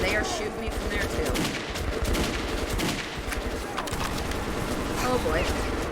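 Dense gunfire in the video game Metro 2033, rapid automatic bursts and shots crackling continuously from several directions, with a person talking over the din.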